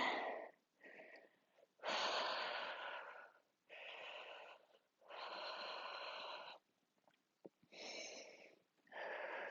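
Deep, audible breaths during a crescent lunge in a yoga class: long airy inhales and exhales come in several slow, separated bursts with quiet gaps between, close and fairly loud.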